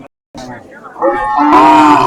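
A cow moos loudly and close at a busy cattle market, one long rising call after a short silence, with crowd noise and voices underneath.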